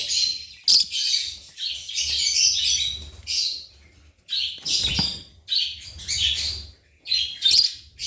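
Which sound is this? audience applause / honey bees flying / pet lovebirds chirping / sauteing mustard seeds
pet lovebirds chirping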